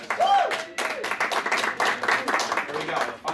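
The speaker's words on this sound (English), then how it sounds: "so give them a round of applause." An audience claps for the judges at an anime convention game show, a steady burst of applause of moderate loudness with voices talking over it.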